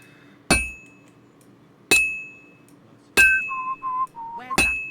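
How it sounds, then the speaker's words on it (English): Hammer strikes on hot metal at a blacksmith's anvil in Kingdom Come Deliverance 2: four sharp, ringing clangs spaced about a second or more apart, with a brief tonal whistle-like sound between the last two. "I have to hammer it more evenly."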